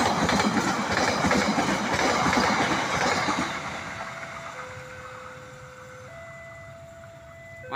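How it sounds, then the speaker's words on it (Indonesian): Argo Wilis passenger train running through Gede Bage station in the afternoon, loud rumbling wheels and clattering rail noise that fades away, followed by a steady station tone and a short alert beep. "selamat jalan Argo Wilis melintas di Stasiun Gede Bage"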